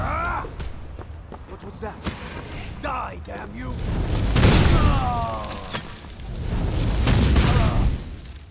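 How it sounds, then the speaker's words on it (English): Massive explosion at a fuel depository in Skyrim, deep booming blasts and heavy rumbling thuds that swell and roll twice, loud and close, with voices talking over the din. "you hear the sound of a massive blast down from the fuel depository"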